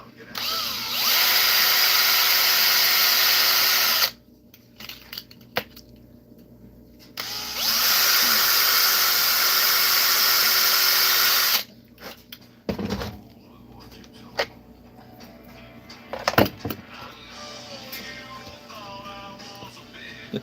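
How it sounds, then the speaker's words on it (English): A power drill bores out a part for hook hangers in two long, loud whirring bursts of about three and four seconds, separated by quiet handling noises, then clicks and clatter follow. "I'm gonna drill this guy out first, get my hook hangers ready to go"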